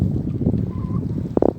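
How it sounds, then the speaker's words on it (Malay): Strong storm wind blows over open sea in heavy rain, heard from a fishing boat as a steady loud rush and microphone buffeting, with a few sharp knocks near the end. "Angin dia laju, friend."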